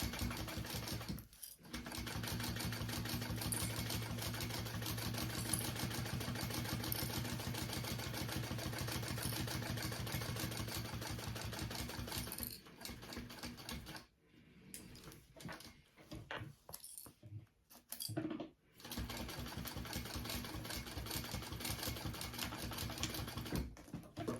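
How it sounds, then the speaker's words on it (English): A sewing machine runs a steady, fast stitch over elastic for about twelve seconds, stops and starts in short bursts with brief pauses, then hums along again, close and with no talk. "I will come back and do just an extra row of stitching over my elastic just to give it a little bit of extra support"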